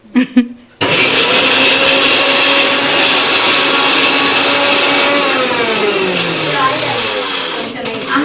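A kitchen mixer grinder blends ginger and garlic into a paste with a loud, steady high-pitched whir. It starts abruptly after a moment and runs continuously to the end, with voices faintly beneath it.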